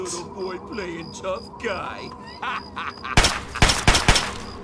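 Gunfire in Fallout 3: a burst of several sharp, loud broadband shots near the end, following game ambience, electronic beeps and a talking character voice.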